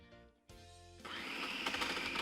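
A food processor whirs up a crab and mushroom stuffing seasoned with salt, black pepper and fresh basil, starting after a short motor hum and building into a loud, steady grinding buzz that continues to the end.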